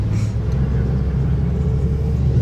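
A BMW M2 on its stock exhaust idles with a low, steady rumble, close and loud without revving.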